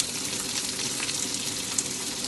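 Ginger sizzles steadily in a hot pan, a dense, even crackle of frying that holds at a moderate level throughout with no one speaking.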